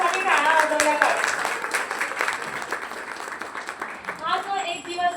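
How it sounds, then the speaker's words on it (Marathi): A Women's Day audience claps for themselves, a dense burst of applause that is loud at first and tapers off, with a voice speaking over the end. "सर्वांनी स्वतःसाठी टाळ्या वाजवल्या पाहिजे"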